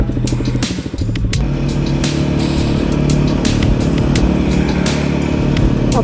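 A motorcycle pulls away from a stop in first gear. A close, loud engine drone rises and holds with steady harmonic growl, and short ticks and clicks are scattered over it.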